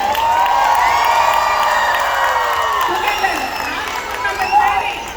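Audience at a Kannada community event in Toronto, Canada cheering and applauding, a loud sustained wash of crowd noise with high whoops and shouts.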